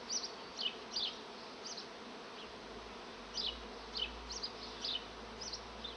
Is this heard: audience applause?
no